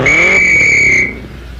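A single loud, steady whistle blast, sounded to call someone, holds a clear piercing tone for about a second, then cuts off, with no talking.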